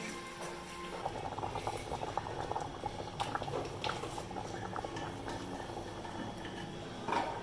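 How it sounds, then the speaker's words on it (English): A pot of yuca bubbling at a steady rolling boil, with dense popping and gurgling, close by, plus a few faint clinks. "So that's the yuca boiling."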